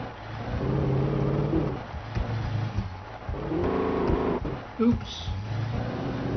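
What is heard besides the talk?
car driving in video game Alan Wake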